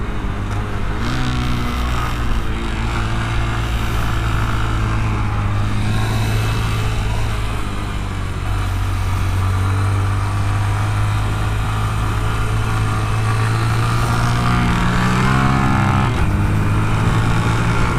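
A Honda Grom motorcycle engine hums steadily while riding on the street, a loud, continuous low drone with slight shifts in pitch throughout, no talk over it.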